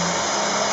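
A steady, loud whine of a shop vacuum running nonstop in a woodworking workshop during Kreg jig pocket-hole drilling, with no other sound breaking through.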